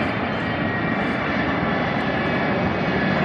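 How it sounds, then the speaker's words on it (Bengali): A large airplane passes low overhead on its landing approach, a steady broadband engine roar that stays loud and continuous throughout. "অনেক বড় একটা বিমান।"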